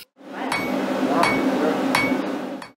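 A blacksmith's hammer rings on an anvil in four sharp, evenly spaced metallic strikes that ring on between blows.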